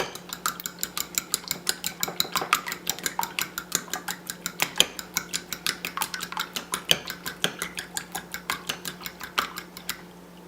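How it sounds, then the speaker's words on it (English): A utensil beats eggs with a little milk in a bowl in rapid, rhythmic circles, sending a steady run of close clinks and taps that continues throughout. "And then I just beat them in a circle."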